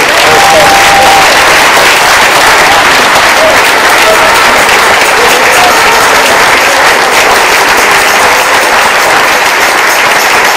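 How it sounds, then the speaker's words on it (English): Loud, dense congregation applause at a church service, a long unbroken roar of clapping hands with faint crowd murmur underneath, holding steady throughout. "let's give a lot of clap of praise."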